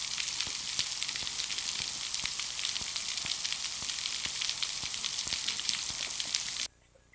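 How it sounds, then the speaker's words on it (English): Snapping shrimp on a coral reef, recorded underwater, make a dense, steady crackle of countless tiny snaps, like frying bacon, continuing unbroken for several seconds before abruptly cutting out. "Here's that bedlam of noise, this crackling snapping shrimp."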